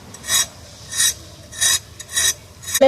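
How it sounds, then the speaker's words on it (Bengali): A peeler rasps rhythmically along the skin of pointed gourd (potol), giving four evenly spaced scraping strokes about every two-thirds of a second, close and clear with no talk. "সবজিগুলো এই পটলের কিন্তু এইরকম খোসা ছাড়াবো"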